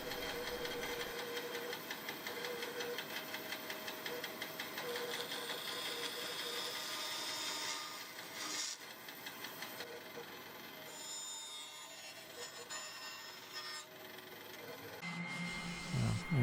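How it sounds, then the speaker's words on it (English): A bandsaw roughly cuts out a small rosewood patch, salvaged from a scrap guitar neck, giving a steady whirring machine drone with a rough, ragged cutting texture that eases midway and builds again near the end. "just roughly cutting it out with the bandsaw"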